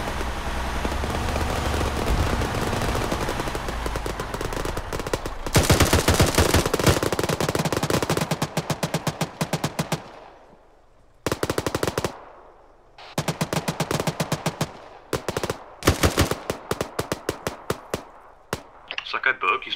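A vehicle-mounted gun in ArmA 3 firing long automatic bursts, loud and close, broken by short pauses and near-silence before more rapid volleys, with voices talking over parts of it.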